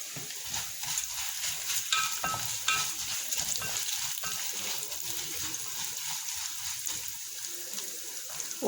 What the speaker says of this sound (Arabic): الحلة على البوتاجاز عليها شوية زيت وهحط فيها شوية شعرية صغيرين